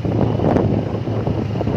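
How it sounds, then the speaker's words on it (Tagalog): Strong wind buffeting the microphone, a low, rumbling continuous roar with gusty fluctuations throughout. "Bugno kadjug hangin guys."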